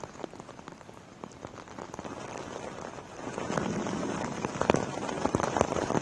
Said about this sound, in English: Rain fury from north to the south, early onset of monsoon, unprecedented downpour